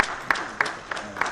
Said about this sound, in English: Thank you for applauding him.